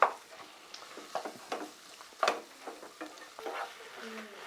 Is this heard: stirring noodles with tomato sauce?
yes